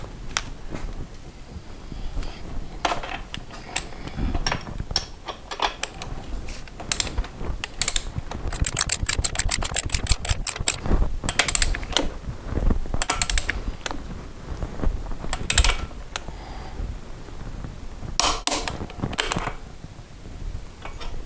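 Torque wrench ratchet tightening the chain adjuster on a Kawasaki ER-5 motorcycle, dense bursts of fine metallic clicks in quick runs, with occasional handling clatter, close and fairly quiet.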